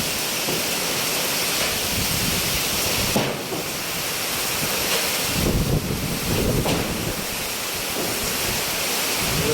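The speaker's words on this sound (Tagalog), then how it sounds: "Tuloy yung lakas ng hangin." Strong typhoon wind roars steadily against the microphone outdoors during Typhoon Aghon, a loud unbroken rush with heavier gusts surging partway through, no voices.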